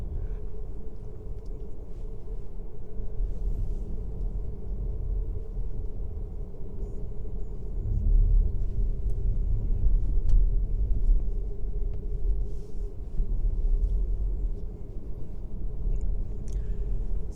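Inside a Volkswagen ID.3 electric car driving through a forest, a steady low road rumble and tyre hum fill the cabin, quiet and continuous with no talking.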